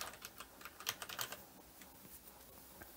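Quick, faint key clicks on a computer keyboard come in a short burst and then thin out to occasional taps against quiet room tone.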